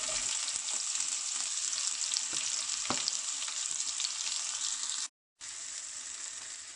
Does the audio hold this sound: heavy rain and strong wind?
no